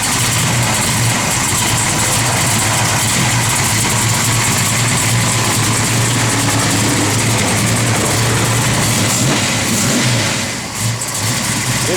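A 1972 Chevrolet Heavy Chevy V8 idles loud and close, a steady, rough rumble running the whole time with small revs and a brief dip near the end.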